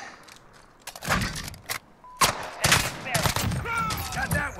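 A FAMAS in Call of Duty Modern Warfare fires short, sharp bursts in separate clusters, close and punchy, with someone talking between and over the shots.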